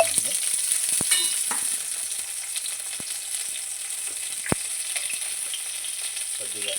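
Green chilies and garlic frying in hot oil for a mutton curry, a loud, steady crackling sizzle with a few sharp ladle taps, close up and without talking.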